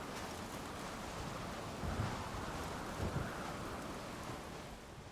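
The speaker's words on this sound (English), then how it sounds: "There's a storm coming, Fred." A thunderstorm in the video game The Witcher 3 gives steady heavy rain with low, rumbling thunder rolling in twice, a dense constant roar throughout.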